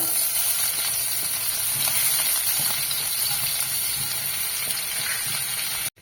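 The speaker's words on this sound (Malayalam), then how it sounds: "ആ എണ്ണയിലോട്ട് ആറ് കഷ്ണം വെളുത്തുള്ളി രണ്ട് പച്ചമുളക് ഒരു ചെറിയ കഷ്ണം ഇഞ്ചി അതിട്ട്" Garlic, green chillies and ginger sautéing in hot oil for chilli chicken, a loud, continuous close-up sizzle and hiss that cuts off abruptly at the end.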